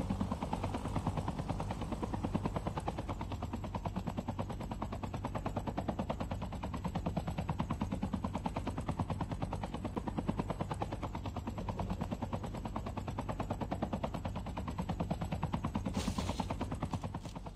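Helicopter from a Call of Duty Mobile battle royale match, a rapid steady rotor thump droning throughout at moderate level, with a faint high whine above it.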